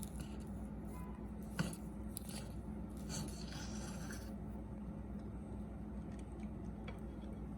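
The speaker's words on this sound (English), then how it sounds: "the dough, which has been refrigerating overnight. Cut into approximately 1/4 inch slices." A knife slices through chilled, overnight-refrigerated dough for ham and cheese breakfast pinwheels, cutting quarter-inch rounds with soft, close rubbing and scraping strokes under a steady background, with no talk.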